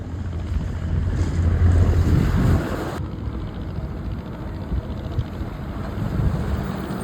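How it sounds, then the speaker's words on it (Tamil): A boat hauls a stranded mechanized fishing trawler off coastal rocks using two ropes. A low engine rumble strains under strong wind buffeting and wash from the sea, and the rumble fades after a few seconds. "அந்த போட்டு எவ்வளோ ஃபோர்ஸ் பண்ணி இழுக்கிறாங்கன்னு பாருங்கள்"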